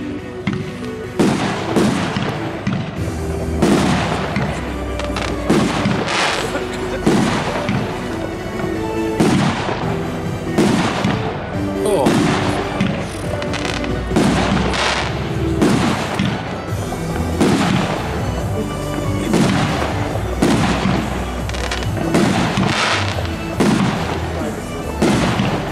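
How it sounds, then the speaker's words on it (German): An XXL fireworks battery of 50 shots in 50 mm caliber fires at a pyro show, a rapid, loud, continuous series of thumping launches and booming bursts over about twenty-five seconds. "Die nächste Batterie ist XXL 50 Schuss. 50 Schuss im Kaliber 50 mm."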